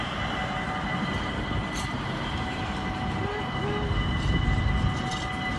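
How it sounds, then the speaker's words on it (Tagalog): Steady rumble and hum of a passing train, loud and continuous with faint rail clatter and a brief metallic squeal, heard nearby with no one talking. "Ayos ang train, no?"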